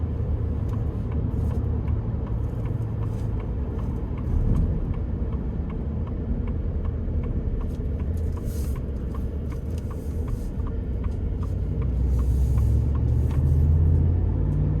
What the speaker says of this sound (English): Now I will say the exhaust with this 5-liter V8 does sound very strong, very nicely tuned.